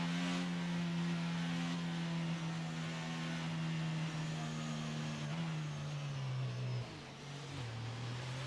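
Car engine from F1 22 at the Azerbaijan GP, droning at a steady low pitch while cruising behind the safety car, with slight pitch dips near the end as the revs settle.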